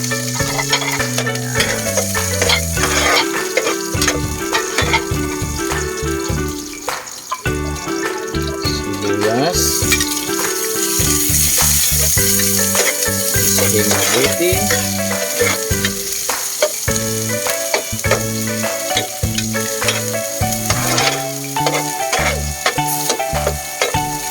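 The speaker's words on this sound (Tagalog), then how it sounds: "lagay natin yung bawang" Garlic sautéing in a pan with a little water for chicken tinola, a steady loud sizzle with stirring scrapes running through, under continuous music.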